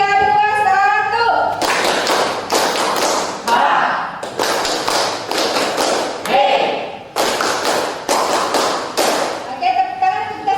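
A class of children claps in short rhythmic bursts, counted patterns of sharp claps separated by a teacher's voice calling out the count in Indonesian between rounds.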